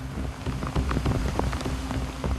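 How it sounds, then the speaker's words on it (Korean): Heavy rain pours down suddenly in the mountains of Shangri-La, China, at about 3300 m, a dense, steady hiss of drops pattering on surfaces close by. "갑자기 비가 쏟아지기 시작했다."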